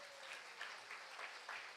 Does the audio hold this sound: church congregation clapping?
yes